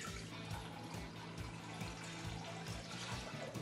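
Water poured into a pot while making Japanese curry rice, a steady faint pouring and splashing wash that runs without a break.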